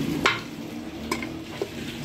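Meat goes into a pressure cooker with whole spices for Afghani pulao and is stirred, giving a low sizzle with three sharp scraping clinks of the spoon against the metal pot.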